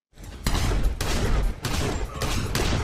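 Rapid, loud, booming shots fired back to back from a Benelli M4 shotgun in a movie action scene, about five blasts under a dense roar of gunfire.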